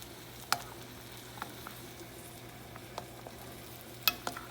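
Tomato spaghetti sauce made with fresh or frozen tomatoes simmers in a covered pot, giving a low, steady bubbling hiss with a few soft pops and plops, fairly faint and close.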